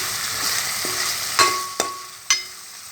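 Kaddi fish fries with a steady hiss in a pan while a utensil mixes it, striking the pan with three sharp metallic clinks nearby.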